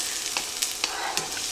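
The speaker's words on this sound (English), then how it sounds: "You hear that sizzle? That's what you want to hear." Peppers and onions sizzle steadily in a hot pan, a continuous bright frying hiss with a few sharp crackles and stirring scrapes close by, no talking.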